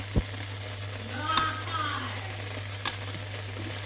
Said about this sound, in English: So saute one onion for about two, 2 minutes.